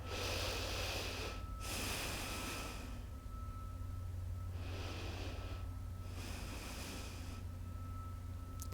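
Slow, audible breaths during a seated Virasana yoga pose, with airy inhales and exhales in long cycles over a low background hum.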